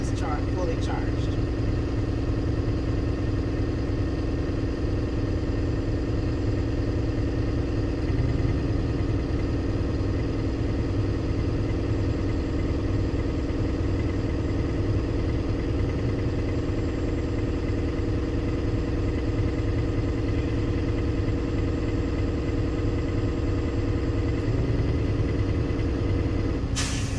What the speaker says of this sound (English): Now I'm going to press the accelerator and let the governor cut out, which will indicate my system is fully charged.